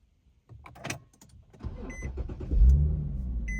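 A push-button start of an Infiniti G37S coupe: clicks and a whirring crank give way to a steady low engine rumble, with faint electronic chimes sounding twice near the end.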